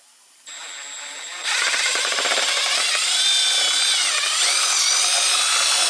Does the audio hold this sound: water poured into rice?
no